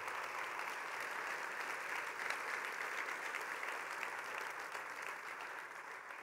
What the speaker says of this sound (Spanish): Y sí, vale dar un aplauso al Señor.